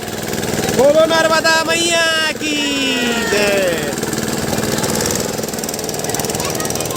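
Motor boat engine running steadily on the Narmada river at Omkareshwar, a continuous loud mechanical drone with a voice briefly singing or calling over it early on.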